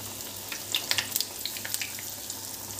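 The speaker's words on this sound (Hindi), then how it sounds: "मैं इसमें एक एक मोमोज करके फ्राई के लिए डाल दूँगी" Momos deep frying one by one in hot oil over a low flame, a soft steady sizzle with scattered small crackles and pops, fairly quiet and without voices.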